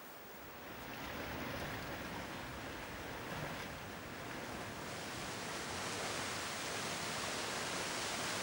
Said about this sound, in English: The large waterfall inside this national park washes the crags with 40 meters of turbulent water